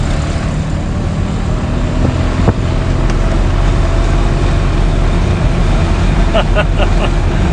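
A 1987 FIAT 126p climbs a hill, its small engine a low, steady drone heard from inside, with wind noise around it and a person talking over it.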